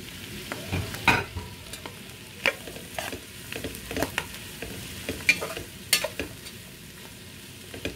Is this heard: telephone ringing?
no